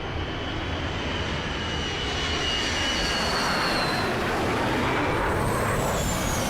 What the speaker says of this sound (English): Is the plane gonna crash in this soccer field?